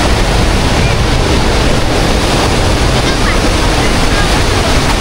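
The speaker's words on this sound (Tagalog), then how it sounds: "Malakas yung ano, alon." Strong sea waves surging onto the beach at San Narciso, Zambales, a steady, loud roar of surf filling the whole stretch without pause, with some wind rumble against the microphone.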